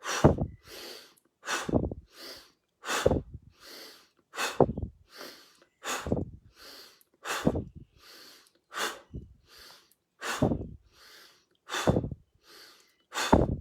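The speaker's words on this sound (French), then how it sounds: "On inspire. Et on expire en descendant les bras." Slow, deep breaths drawn in and pushed out during a guided breathing exercise, arms rising and lowering; about a dozen close, airy inhales and exhales alternate in a steady rhythm, each rising and fading, with no talk over them.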